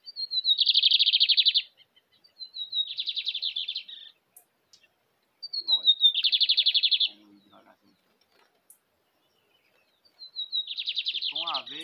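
Lined seedeaters (bigodinho) call in the open near a cage during a seedeater outing. Clear, close, high trilling phrases repeat four times, each about a second long and separated by quiet gaps.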